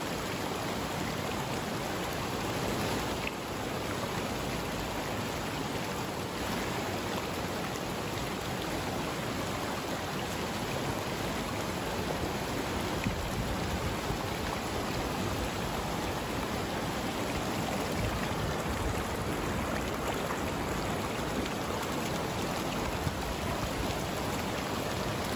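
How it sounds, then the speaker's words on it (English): River water in Alaska rushing over rocks in a constant broadband roar, steady and unbroken throughout, with no voices. "being safe, just wet wading down this river"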